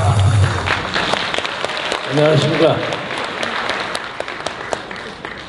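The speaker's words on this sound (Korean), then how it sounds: "김경재 총재님을 한번 모셔보겠습니다. 박수하겠습니다" A Korean rally audience claps to welcome a speaker onstage, a broad wash of applause with a voice speaking briefly over it midway.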